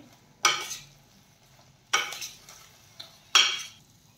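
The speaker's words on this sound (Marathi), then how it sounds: "आता आपल्याला यामध्ये सोया चंक्स घालून घ्यायचे आहेत आणि चांगले मिसळून घ्यायचे आहेत" A spoon scrapes and stirs soya chunks around a pan for soya chilli, three distinct bursts of clattering scraping with quiet gaps between and a faint sizzle underneath.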